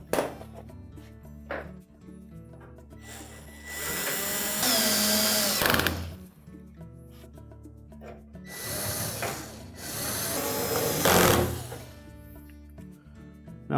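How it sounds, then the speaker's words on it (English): A power driver sets screws to fasten a Bosch washer drain pump (part 00436440), giving two sustained whirring runs of a few seconds each with rising pitch, separated by quieter handling and clatter, close and loud, with no voices. "We'll now secure it with the 2 screws at the top and the 4 screws at the bottom."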